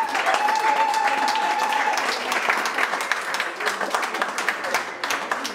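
An evening audience at the Lowveld Book Festival cocktail party applauds poets, a dense sustained round of clapping that stays loud for the full stretch, with a few whistles and cheers mixed in.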